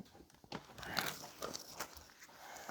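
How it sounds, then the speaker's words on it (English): Someone bites into a crunchy Taco Bell taco up close, with a few sharp crunching bites and soft chewing between them, quiet and without talk. "Crunchy taco."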